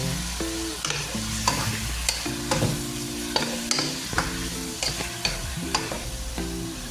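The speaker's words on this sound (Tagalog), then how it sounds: "Luluto lang po natin saglit yung chicken hearts din. Ayan. Halo lang po ng konti." Chicken hearts frying in a pan and being stirred, with steady sizzling beneath rhythmic scraping and tapping strokes of the utensil, close and continuous with no talking.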